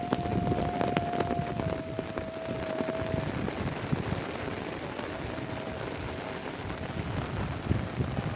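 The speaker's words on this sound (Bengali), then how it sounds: "পৃথিবীতে সবচেয়ে মধুর ধ্বনি আজানের ধ্বনি।" An azan, the Islamic call to prayer, drifts over a village on a rainy, cloudy day, a long sustained melodic voice held on one pitch, distant and partly masked by the steady hiss of rain.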